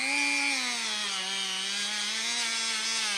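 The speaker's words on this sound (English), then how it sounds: "Now this Dremel is spinning this way, so it's pushing down on that." A Dremel rotary tool buffs the frets on an OM guitar neck, giving a continuous high whine with a slight pitch dip partway through, close and steady with no talking.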